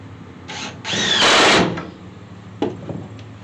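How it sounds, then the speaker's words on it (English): A power drill pre-drills into wall studs during a tiny house build. A single loud, harsh burst of drilling lasts under a second, with a few softer knocks and handling sounds around it. "Now we're going to pre-drill this"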